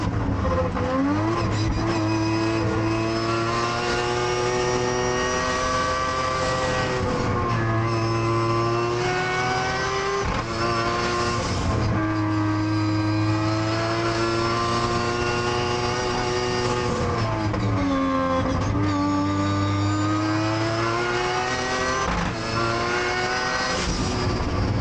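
A three-rotor race car runs the Pikes Peak course. The rotary engine screams loud and close throughout, rising through the gears and dropping sharply as the driver lifts and coasts, with repeated surges between shifts.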